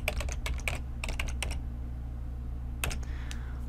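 Computer keyboard typing code, with quick bursts of soft key clicks, a pause, then a few more taps, fairly close and quiet over a low steady hum.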